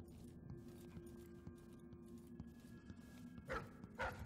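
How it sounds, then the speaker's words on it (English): Dogs bark in the video game Dishonored 2, two short distant barks near the end over a low steady ambient hum, no talking. "Shut up, dogs."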